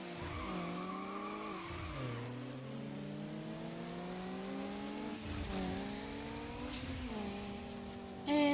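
Race car engine in the Need for Speed Underground video game, revving up through gears with rising whines and sharp drops at each shift, alongside tire noise.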